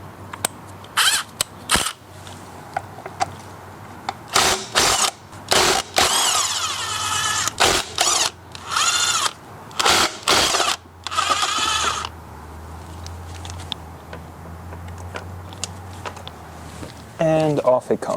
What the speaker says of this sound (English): to undo the rim itself from the hub, I will be using 3/4 socket